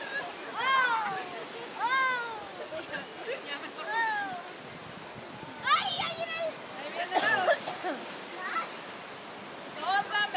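Water gushes and splashes onto riders at a family amusement attraction in California, a steady rushing wash under repeated excited screams and shouting from children and adults.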